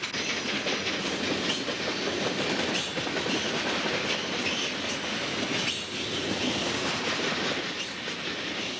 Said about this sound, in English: a westbound taconite train runs by